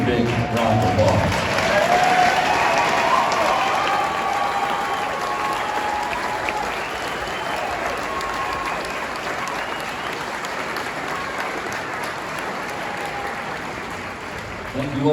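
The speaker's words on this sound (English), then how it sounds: "so we can give you a big round of applause" Sustained applause from a large audience at a western music show at the Flying W Ranch, steady and dense clapping that carries on for the full stretch, with a few voices mixed into the crowd.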